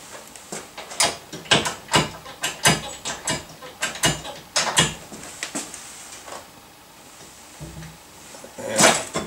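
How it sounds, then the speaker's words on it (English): A bearing tool presses the clutch bearing out of a gear from a Yamaha PW motor, with the gear set on a hollow socket and bronze thrust washers: a series of sharp metallic clicks and knocks in uneven bursts, close and fairly loud, then a brief lull. "we're now going to push that clutch bearing out of the gear."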